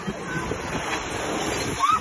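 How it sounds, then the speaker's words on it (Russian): Stormy sea waves surge and wash against the shore in Yalta, a steady wind-buffeted roar of water close to the microphone with one short higher call near the end. "все в ожидании большой волны"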